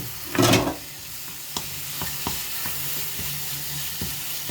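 Meat frying in a pan for curry, giving a soft, steady sizzle with a brief louder burst at the start as it is stirred, followed by scattered light taps and scrapes of a utensil.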